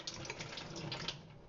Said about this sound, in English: let's turn and pour the water back in like that